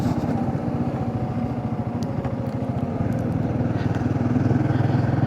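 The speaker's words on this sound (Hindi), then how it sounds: "3000 RPM पर अपनी बाइक इस समय है" A motorcycle engine holds a steady 3000 RPM while riding on a road, its even, rapid pulsing loud and close throughout with a low rumbling drone and no pauses.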